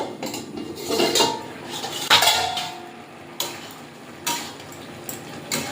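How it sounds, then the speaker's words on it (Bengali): Metal lid lifted off a cooking pot, a series of clinks and scrapes of metal on metal, some ringing briefly, spaced irregularly over a quiet kitchen background. "ঢাকনাটা খুলে নেব।"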